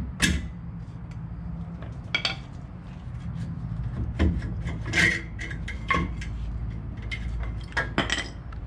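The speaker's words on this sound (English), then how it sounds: "put a pry bar in on this caliper and pry it out" A pry bar scrapes and levers a brake caliper out on a 2010 Ford Ranger, giving close metallic rasps, creaks and scattered clinks in irregular bursts.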